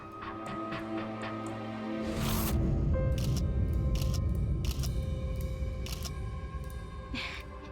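A phone camera shutter fires while someone takes a selfie: several brief, sharp clicks spaced a second or so apart, heard over tonal background music.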